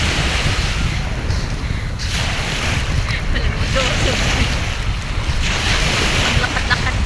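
Ocean surf rolls steadily onto an evening beach, a loud continuous wash of breaking water mixed with gusty wind buffeting the microphone while someone walks along the shore.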